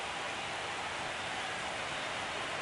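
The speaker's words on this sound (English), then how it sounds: "the field's not going to be able to hold up if the rain gets any worse than this" Rain falls steadily on a baseball field in MLB The Show 25, a dense, even hiss of moderate loudness that holds unchanged throughout, with no talk.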